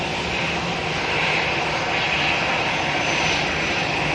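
EasyJet airliner at an airport, a continuous broad jet engine roar holding steady and fairly loud throughout, with no voices over it.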